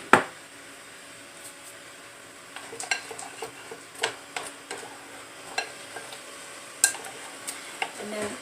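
Ingredients being stirred together in a bowl with a pinch of salt while baking a Thanksgiving dish, heard as soft scattered scraping and light clinks of utensil against dish, fairly faint and intermittent with no talking.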